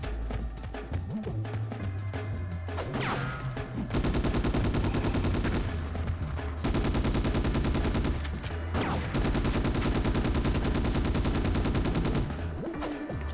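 Video game gunfire from Ghost in the Shell: Stand Alone Complex, dense sustained rapid-fire volleys rattling continuously for over ten seconds, loud and unbroken with brief gaps between bursts.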